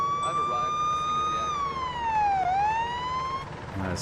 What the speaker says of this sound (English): The siren is way too loud.